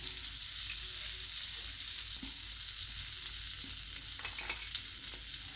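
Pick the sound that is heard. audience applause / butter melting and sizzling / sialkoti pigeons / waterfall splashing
butter melting and sizzling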